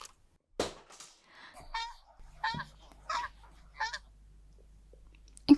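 A goose honks in a short series of loud, nasal calls, about five separate honks spaced irregularly, close by, with a faint low hum underneath and a sharp knock at the end.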